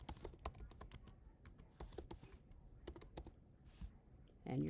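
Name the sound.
typing credentials and password on a computer keyboard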